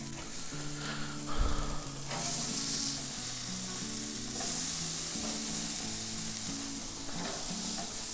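Burger patties for green chili cheeseburgers sizzle on a Weber Spirit gas grill just after being flipped, giving a steady, moderately loud frying hiss with faint scraping and clinks and no talking.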